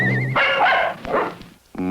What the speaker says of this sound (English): This is Herman, snoopingest pup in the USA.